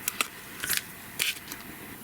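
Scissors trim a small craft piece for a stitched holiday card with a candle and holly, giving a few quiet, crisp snips spaced apart at close range, with no talking.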